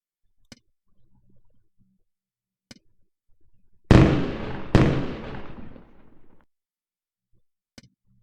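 Lightbulbs bursting in a video game: two loud, close explosive pops less than a second apart, each trailing off into a crackling decay, surrounded by near silence and a few faint isolated clicks.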